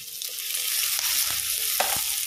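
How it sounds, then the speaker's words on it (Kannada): Onion frying in oil with curry leaves, a steady close crackling sizzle with a few stirring clinks, no talking. "ಈ ಈರುಳ್ಳಿ ಒಳ್ಳೆ ಫ್ರೈ ಆಗಬೇಕು ಕೆಂಪಾಗಬೇಕು ಸ್ವಲ್ಪ ಫ್ರೈ ಆಗ್ತಾ ಬರುವಾಗ ಸ್ವಲ್ಪ ಕರಿಬೇವು ಹಾಕಿ"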